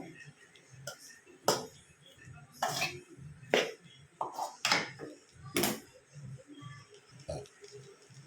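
A spoon scrapes and clanks against a pan while tomato rice is stirred together, scattered loud knocks spaced a second or so apart over soft, quiet rustling.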